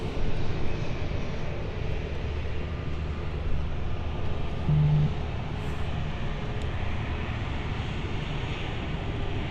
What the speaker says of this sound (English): So he's on the runway, this E2, it's Swiss, and he's going to be quick.